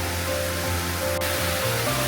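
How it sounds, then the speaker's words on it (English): A small waterfall runs down a mountainside, a constant broad rushing hiss of falling water, steady and fairly loud with no pauses. "It's not a huge waterfall, but it's definitely a little waterfall."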